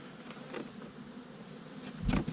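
Honeybee swarm buzzing at an opened hive, a steady dense drone close by with a louder surge near the end.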